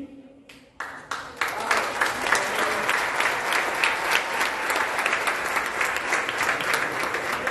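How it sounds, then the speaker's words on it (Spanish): Audience applause at a municipal swearing-in ceremony of the Movimiento Ciudadano operative commission, starting after a brief pause and then holding as a full, steady burst of many hands clapping close by, with no talk over it. "Entonces, ese fuerte aplauso."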